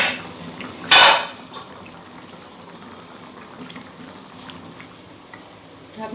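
Curry broth for a fish roe curry with pointed gourd and potato bubbles in a pot, a soft continuous simmer broken early by a sharp clatter, likely a lid, then faint bubbling continues.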